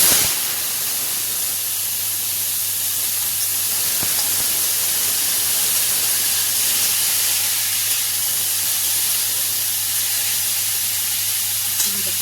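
Washed banana stem hits hot oil tempered with five-spice seeds and dried red chillies, producing a loud, constant frying hiss close by that holds steady without pause.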